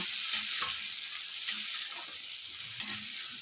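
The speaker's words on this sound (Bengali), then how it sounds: "ভালো করে তেলের সাথে লাল লাল করে ভেজে নেব" Cauliflower florets and potato pieces fry in hot oil in a wok, giving a steady close sizzle with three sharp spatula clinks and scrapes at regular intervals.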